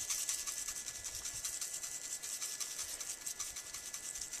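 McCormick Grill Mates roasted garlic herb seasoning being sprinkled over beef ribs, a soft, steady, faint rasping patter of granules falling in quick repeated bursts, alone without talk.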